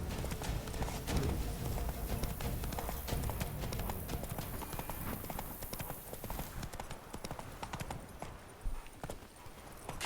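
Roach the horse galloping in The Witcher 3, a rapid, continuous clip-clop of hooves close by with game ambience underneath.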